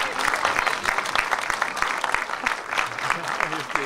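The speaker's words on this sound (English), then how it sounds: "I guess give her another round of applause." Steady, dense applause from a film festival audience fills the hall, loud and continuous throughout, with voices faintly audible underneath.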